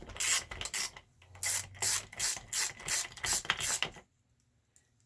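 A socket wrench with a 17mm socket ratchets on a Traxxas Maxx 4S RC car's front toe link: a series of close, crisp ratcheting bursts in a steady rhythm, then a stop into near silence.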